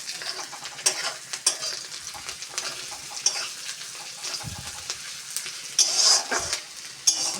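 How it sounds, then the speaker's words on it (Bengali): Onions frying in a pan for street-style egg chowmein, with steady sizzling and repeated stirring scrapes and clinks of a utensil against the pan, fairly close, no talking. "পেঁয়াজটা ভেজে নিচ্ছি"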